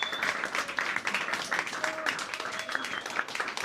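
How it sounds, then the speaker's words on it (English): An audience claps and cheers in a lively burst of applause, dense and close, with scattered whoops and a few raised voices mixed into the clapping. "So can we have a massive round of applause for all of these people?"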